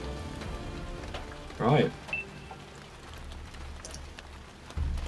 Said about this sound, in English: it is raining and it is very open